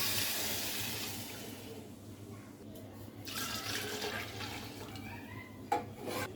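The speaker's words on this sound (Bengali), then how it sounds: "এবার এই পট দিয়েই আবার জল দিব।" Hot water mixed with milk poured into a pot of rice for chicken biryani, a close gurgling splash that rises and falls in a couple of pours, with talking alongside.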